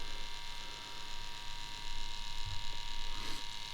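Yilong F3 adjustable tattoo pen running with a steady, even electric buzz and hum, quiet and close, with no voices over it.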